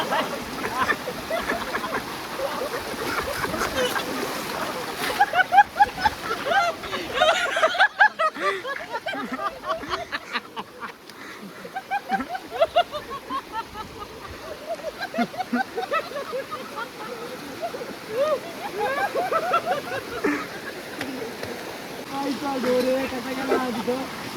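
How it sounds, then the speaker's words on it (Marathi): A rushing river with a strong, forceful current during the monsoon in Konkan, a steady broad wash of water running under almost continuous close-up talk and some laughter. "पाण्याला फोर्स जास्त आहे त्यामुळे नदी पार करणं कठीण काम आहे"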